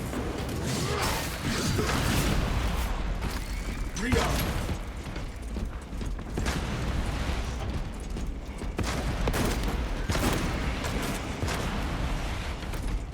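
Gunfire in the video game Space Marine 2 during a hard co-op mission, with loud bursts of shooting, metallic clanks and impacts stacked densely over a rumbling battle bed, close and continuous throughout.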